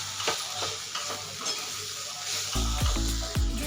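Boiled potato and a crumbled roasted papad vegetable are stirred together in a hot pan, a steady sizzle running throughout with a few scraping spatula strokes, louder and more vigorous in the final second.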